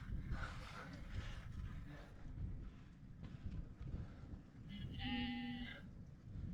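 A sheep on the open fell at Great Dun Fell in England gives a single clear bleat near the end, amid gusting wind rumble and a voice talking.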